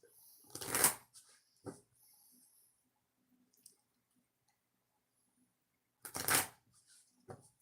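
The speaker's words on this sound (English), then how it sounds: "Shuffle it 2 times." Two quick riffles of a card deck being shuffled, one early and one later, with soft handling taps between and quiet pauses.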